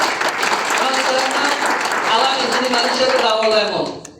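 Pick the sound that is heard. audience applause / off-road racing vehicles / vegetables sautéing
audience applause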